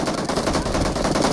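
Heavy automatic gunfire in the BGMI battle royale video game: dense, rapid shots in an unbroken burst, loud and close, with no voices over it.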